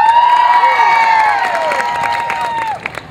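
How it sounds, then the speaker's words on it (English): A crowd at a street show in Boston's Faneuil Hall cheering and whooping loudly, with clapping building beneath the shouts, close and lively before the voices drop away at the end. "Everyone will give you a thunderous round of applause."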